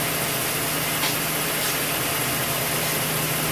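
A 2011 Lincoln MKX engine idles steadily with a low, even hum under broad hiss, constant and unchanging for the few seconds heard, with no voices.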